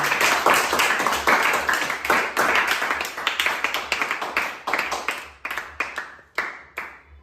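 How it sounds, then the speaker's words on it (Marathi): An audience claps for Lakshmi after a hands-free doll puzzle game, a close burst of irregular hand claps that thins into a few scattered, fading claps. "तर लक्ष्मीसाठी एकदा टाळ्या द्या"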